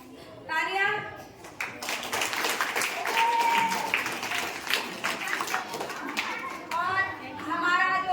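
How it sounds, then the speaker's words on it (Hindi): Children at a school competition clap together in a steady burst of applause, lively and close, with young voices talking briefly before and after the clapping. "तालियां।"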